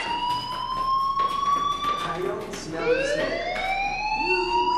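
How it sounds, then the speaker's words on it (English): A school fire alarm rings in the game Life is Strange, a steady sustained electronic tone that rises and shifts partway through, with quieter background sound and little else competing. "Hey, do you hear that fire alarm? That means you should be outside."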